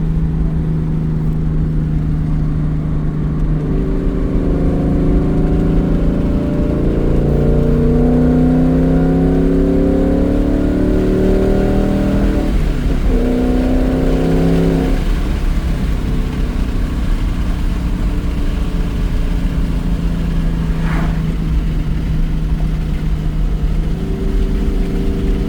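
A Ford Mustang Dark Horse with a Corsa Xtreme exhaust in track mode, heard from inside the car: a loud, continuous engine drone that rises and falls with throttle and shifts, joined by road and wind roar.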